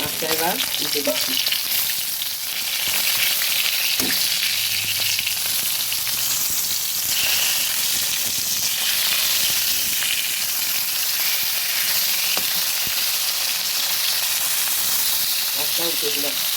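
Rohu fish frying in a wok, a loud hissing sizzle that runs steadily throughout with occasional pops, and brief snatches of a voice at the start and end.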